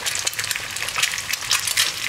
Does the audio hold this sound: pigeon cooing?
no